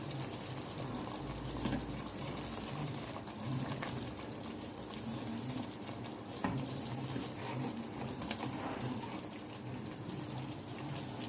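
Pieces of chicken for qorma are dropped into hot gravy with ghee in a pan, giving a steady, low, continuous sizzle and bubbling with no voices.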